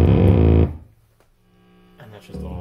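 Distorted electric guitar through stacked distortion pedals, including a Rat, playing a loud sustained chord that cuts off, then a quiet gap before another heavy distorted chord rings in.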